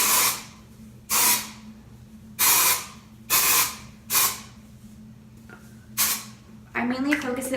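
Short bursts of aerosol spray hiss out one after another, about seven quick sprays with brief pauses between, close to the listener.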